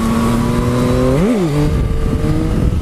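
A 2021 Yamaha MT-09 SP motorcycle pulls hard in third gear, its loud close engine note rising, dipping briefly as the clutch is snapped, then climbing again with no talk.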